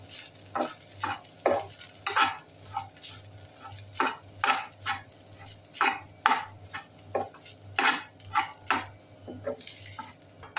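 Fresh grated coconut being dry-roasted in a pan with a little oil until reddish brings repeated scraping strokes of a spatula at a steady rhythm over a faint background sizzle.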